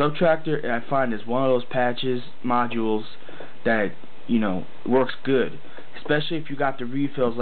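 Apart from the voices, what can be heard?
None of the usual background noises is heard.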